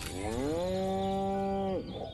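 A cow in the video game Destroy All Humans lets out one long, clear, steady moo that ends abruptly, heard close and alone.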